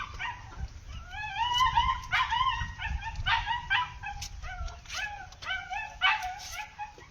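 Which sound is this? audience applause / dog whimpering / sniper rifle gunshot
dog whimpering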